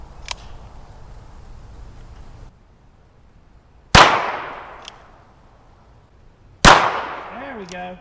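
Two sharp .22LR revolver shots from a Ruger Wrangler fired outdoors at orange soda can targets, each a loud crack followed by a decaying ring, spaced a few seconds apart.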